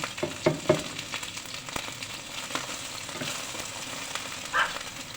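Ginger sizzles and crackles in hot oil in a pan, the base for chicken tinola, with steady frying hiss and scattered sharp pops throughout, close and alone with no talk.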